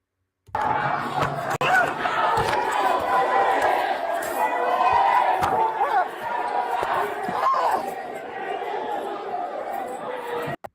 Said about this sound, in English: You hear all that screaming and shit